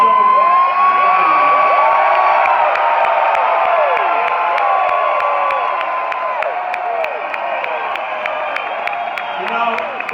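A huge crowd of tens of thousands at a political rally in Macon, Georgia roars and cheers continuously, with whoops, shouts and scattered clapping forming a dense, loud wall of sound throughout.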